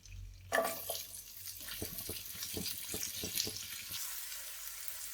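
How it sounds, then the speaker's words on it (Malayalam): Onions sautéing in ghee and oil for prawn biryani: a burst of sizzling as they hit the hot fat, then crackling hiss with repeated scraping stirs against the pan, close and loud. "ഇനി ഇത് സവോള ഇട്ട് വഴറ്റാം"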